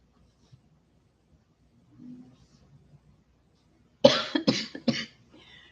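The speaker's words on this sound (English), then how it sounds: "Oh, why is that coughing?" Near-silence with faint shuffling, then a burst of several harsh coughs in quick succession, close and loud.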